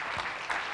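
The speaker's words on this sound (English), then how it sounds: "another round of applause for the last section" Short burst of audience applause at a panel discussion on royalties and revenue, fairly faint and steady.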